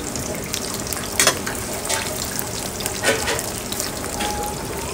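Garlic and shrimp paste frying in leftover tempe oil, a steady dense sizzle with a few brief louder crackles and stirring clinks close by.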